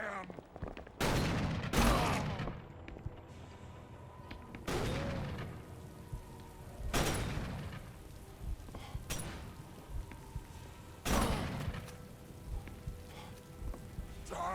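Gunfire rings out in the horror video game Call of Cthulhu: Dark Corners of the Earth, with several loud sharp shots spaced a few seconds apart, each ringing out and decaying over a steady background of rain-like noise.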